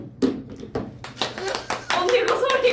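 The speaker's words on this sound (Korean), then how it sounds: "다들 박수!" Several people clap in a quick burst of applause at a small birthday celebration with cake, close by and mixed with excited talking and laughter.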